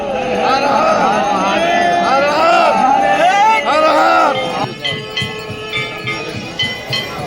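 A huge crowd of pilgrims at Maha Kumbh heads toward the Sangam, a dense babble of many voices and chanting close by, later thinning into scattered calls and footsteps.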